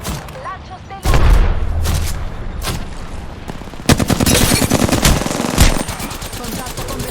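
Loud automatic gunfire in the shooter game Apex Legends comes in rapid bursts with sharp single cracks, mixed with booms and in-game voices.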